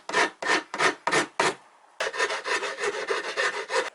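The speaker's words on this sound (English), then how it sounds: "Now let's work these edges nicely with files, a really rough one and a smooth one" Hand files, one coarse and one smooth, rasp along the edges of a DIY off-road electric skateboard deck. Five loud, separate strokes come first, then a short pause and a quicker run of steady, rhythmic rasping, close up with no talk.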